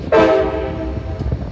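An Amtrak 45 passenger train sounds its horn in Denver, a loud sustained blast starting abruptly and ringing out with rich harmonics, followed by a low rumble of the passing train.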